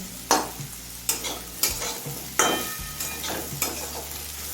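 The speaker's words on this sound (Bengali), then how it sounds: "এবার আলু আর গাজরটা সিদ্ধ হয়ে আসা পর্যন্ত ভেজে নেব চার পাঁচ মিনিট মিডিয়াম ফ্লেমে" Potatoes and carrots frying on a medium flame, stirred with five or six sharp scraping strokes over a steady low sizzle, close and fairly loud with no voices.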